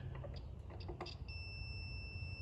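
Continuity beep from a multimeter testing fuses on a Bally Mata Hari pinball machine: a steady, clear tone that starts partway through and holds to the end, sitting over low hum and a few brief clicks.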